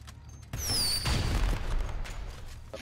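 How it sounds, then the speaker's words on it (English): Fireworks launched in GTA Online: a whistling rocket streaks upward, then a dense crackling volley of bursts rolls on for a couple of seconds, loud and close. "Let's see if fireworks work."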